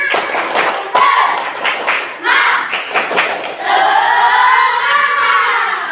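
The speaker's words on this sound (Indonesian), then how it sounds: "Oke, tepuk semangat dulu. Tepuk semangat." Children in a classroom perform a rhythmic 'tepuk semangat' clapping chant, bursts of patterned claps and thumps mixed with loud unison shouting voices, ending in a sustained group cheer.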